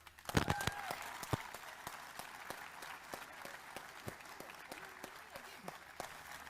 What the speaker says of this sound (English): I think they deserve the biggest round of applause